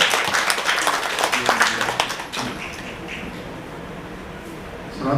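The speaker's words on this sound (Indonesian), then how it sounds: "Tepuk tangan untuk ibu-ibu solehah." Audience clapping at a university rector's welcoming address, a dense burst of applause from a crowd that fades into quieter room noise after a couple of seconds and swells slightly again at the end.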